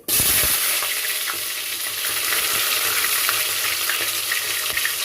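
Cumin seeds and onion frying in hot oil in a pan while a kichidi is cooked, giving a steady, close, loud sizzle with occasional stirring clicks throughout.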